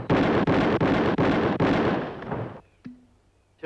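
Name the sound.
five rifle shots in a shooting contest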